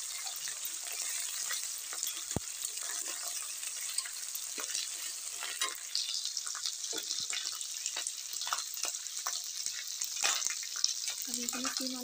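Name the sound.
frying ginger garlic paste in a pan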